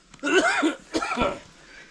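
Two bursts of harsh whooping-cough coughing, a longer fit followed by a shorter one, close and loud, then quiet.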